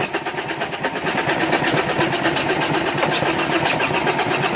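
A Renault Scenic 1.9 dCi diesel engine turns over after its fuel filter is replaced and bled, a close, loud, rhythmic cranking that pulses evenly throughout.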